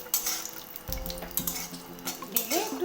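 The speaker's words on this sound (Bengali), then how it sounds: "এটাকে আমি লো ফ্লেমে কন্টিনিউ এভাবে নাড়াচাড়া করে ভেজে নেব" Cashews and raisins frying in oil in a pan over a low flame, stirred with a spoon that scrapes and clinks against the metal, with a soft steady sizzle and no talking.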